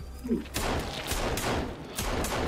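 Pistol fire in the survival game Sons of the Forest, a handful of quick, fairly loud bursting shots spaced unevenly over a low background, with no talk.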